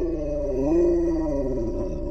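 A husky lets out a low, drawn-out howl that rises and falls in one sustained, moderately loud note, heard up close with no one talking over it.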